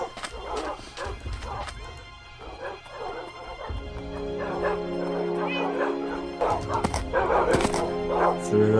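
Dogs in a video game bark and yip repeatedly, with whimpers and a crash mixed in, loud and close, alongside game music and effects.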